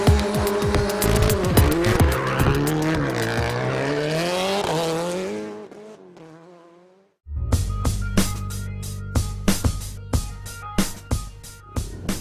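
Ken Block's rally car drifts around a Gymkhana course, its engine revving hard with loud tire squeals, then sharp repeated bursts as it throttles and slides close by.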